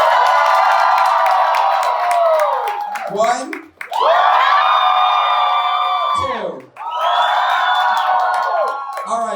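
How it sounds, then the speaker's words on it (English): A university event crowd cheers for the second of two competing groups in loud, sustained roars of shouting and whooping, broken by short pauses where a host counts, with several swells of cheering in a row. "You guys are going to cheer the loudest for the one that you like the most."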